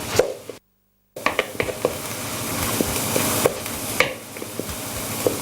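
Onions frying in a pan for potato and cheese cakes give a steady close sizzling hiss, broken by sharp clicks and scrapes of stirring, with a brief silent gap near the start.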